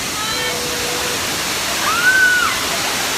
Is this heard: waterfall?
yes